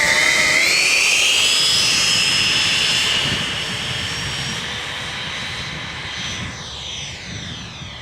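A FreeWing A6 Intruder RC jet takes off with a loud, whining ducted-fan roar that climbs in pitch and then recedes into the distance.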